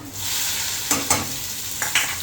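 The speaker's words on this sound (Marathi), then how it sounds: "मिरची, कढीपत्ता व्यवस्थित हलवून घ्यायची. कांदा व्यवस्थित तळून घ्यायचा." Onion, green chili and curry leaves fry in hot oil with a steady bright sizzle, broken by a few sharp scraping stirs of a spoon against the pan, all close and without voices.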